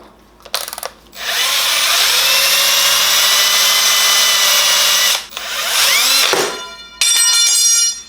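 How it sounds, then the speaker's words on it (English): Power drill boring into a car part during intercooler fabrication work, running loud and steady for several seconds after a short start, with a brief pause and a final burst near the end. "Drill in there."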